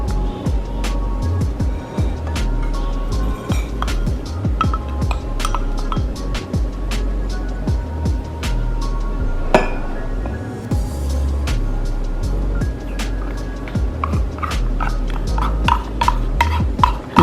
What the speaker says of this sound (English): I will stir in my sugar.